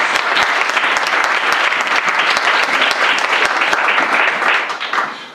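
A church congregation applauding at an Easter service, a dense sustained burst of many hands clapping that fills the room evenly before tapering off at the end.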